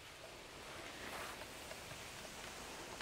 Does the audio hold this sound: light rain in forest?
yes